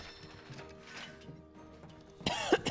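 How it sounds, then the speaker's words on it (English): A person coughs in a sudden, harsh burst near the end after a quiet stretch with faint mechanical clicks and rattles, the cough close and fairly loud. "Someday I will be done with this cough."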